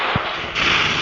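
A short burst of gunfire in the mobile shooting game Free Fire, one brief low thump followed by a brighter crackle of shots over the game's background noise.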